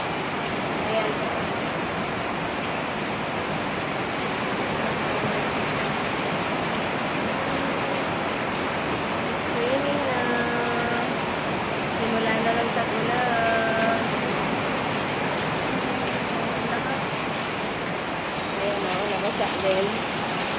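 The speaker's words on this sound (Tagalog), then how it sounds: "Ang lakas na ng ulan." Heavy rain pours down in a dense, steady hiss of drops on surfaces with no thunder, constant and loud throughout, with faint bird calls and a voice briefly audible behind it.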